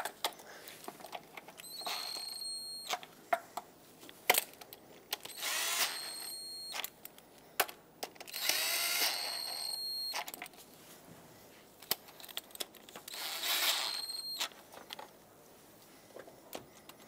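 Ratchet clicks come in short bursts while intake manifold bolts on a 2014-2021 Mazda 6 are snugged down, center bolt first and then outward in a cross pattern, with quiet gaps and small knocks of metal between the runs.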